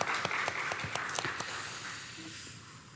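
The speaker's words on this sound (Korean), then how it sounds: "하나님께 영광의 박수 올려드립니다." Congregation applause during a Sunday church service, with a few sharp separate claps over a wash of clapping that fades out over the last second or so.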